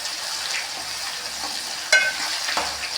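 Garlic frying in oil in a pan while making amla (Indian gooseberry) pickle, a steady close sizzle with a couple of brief stirring clinks and scrapes, no talking.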